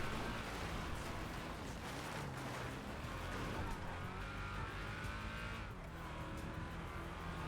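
A car in GTA roleplay drifts and skids, its engine roaring continuously alongside loud tire squeals that rise and fall for several seconds.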